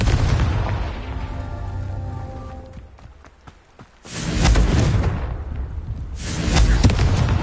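Two heavy blasting explosions from the Confringo spell in Hogwarts Legacy on PS5, each a sudden loud boom with a long rolling rumble, the second coming a couple of seconds after the first, over steady game ambience and thuds.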